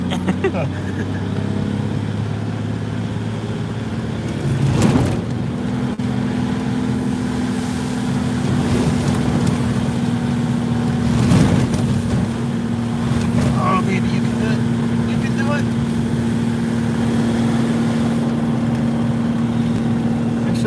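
A car engine pulls hard at full throttle with a steady droning hum, heavy wind and road noise, while people talk inside the cabin.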